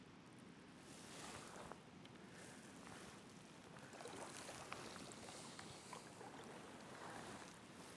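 A sea kayak paddled along the Scottish coastline: soft, faint paddle splashes and water lapping against the hull, with gentle surf and light wind buffeting the microphone throughout.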